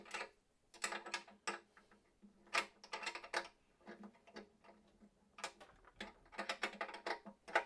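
Nuts on Taylor guitar tuners are tightened during guitar maintenance, giving close, quiet bursts of small metallic clicks and ratcheting ticks in irregular clusters with short pauses between them.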